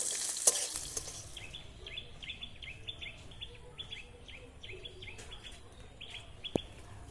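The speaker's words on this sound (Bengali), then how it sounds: "পেঁয়াজগুলো আমরা লাল করে ভেজে নেব।" Onions fry in oil with five-spice and bay leaf, a soft sizzle with occasional stirring clinks and scrapes, faint and close, while birds chirp in the background.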